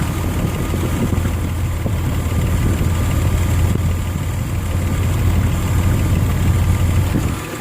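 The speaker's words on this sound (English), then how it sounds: "you know your engine is running to spec the way it was from the factory" Nissan Xterra 3.3 engine running steadily at idle after a timing belt replacement and timing adjustment, a loud, close, even low rumble with no talk.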